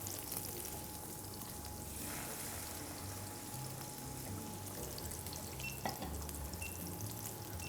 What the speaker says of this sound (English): So while the garlic is simmering here